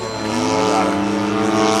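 Small model airplane engine held at full throttle on a downwind pass, a steady loud buzzing drone with rising and falling pitch as it flies by, continuous and alone.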